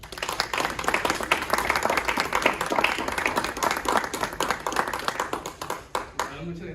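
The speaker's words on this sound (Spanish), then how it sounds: "Recibámoslo con un fuerte aplauso." Loud, sustained applause from a lecture audience welcoming a physics and mathematics speaker, dense clapping throughout that begins to thin out near the end.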